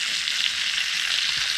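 Bacon and sausage frying in a pan for breakfast at a deer hunting camp, a steady close hiss of sizzling fat with no pauses, alone without talk.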